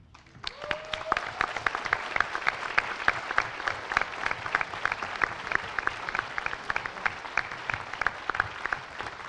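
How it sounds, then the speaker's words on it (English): An audience at MINECON 2015 claps in steady, sustained applause that rises quickly and continues at an even level throughout, with no voices standing out. "I would like to give them a round of applause."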